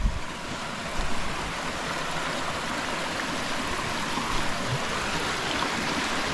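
A moving freshwater stream in Scotland, near Loch Faskally, rushes in a steady, close, full-bodied wash with no voices.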